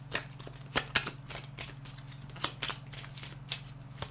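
Tarot cards being shuffled before a reading, a run of soft riffling bursts and sharp snaps over a steady low hum, with no talking.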